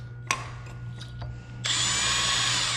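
A handheld power drill, used while finishing an artisan lathe, starts up after a few clicks and handling knocks, then runs in a steady high whine, close by.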